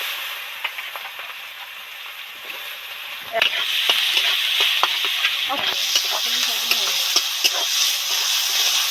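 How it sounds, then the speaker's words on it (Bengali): Onion dropped into hot oil with dried chillies and bay leaf, a quiet hiss that jumps to a loud, steady sizzle, with scraping stirring strokes on top, with no talking. "গরম হয়ে গেছে এবার এর মধ্যে পেঁয়াজটা দিয়ে দেবো"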